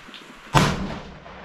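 A single sharp rifle shot in 6 ARC cracks loudly outdoors during a load development ladder test, followed by a short fading echo.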